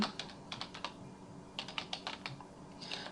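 Typing on a computer keyboard while entering a website name, quiet bursts of rapid key clicks in two clusters with a short pause between, close and alone.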